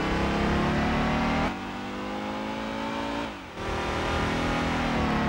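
A car engine revs hard and steady while accelerating in Gran Turismo 2, a loud, buzzing drone that rises in pitch. It dips briefly twice at gear shifts and climbs again, with no talk.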